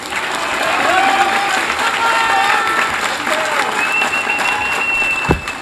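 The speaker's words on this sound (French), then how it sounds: "Je voudrais que tout le monde l'applaudisse." A crowd applauds an army corps general at a Gendarmerie Nationale brigade inauguration, loud continuous clapping from many hands that holds steady throughout, with a brief thump near the end.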